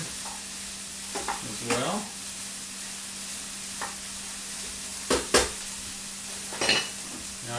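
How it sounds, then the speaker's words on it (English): Onions fry with a steady sizzle in a pan while being stirred, with a few sharper scraping strokes standing out; a brief spoken word comes in at one point. "Stir the onions to make sure that they don't burn"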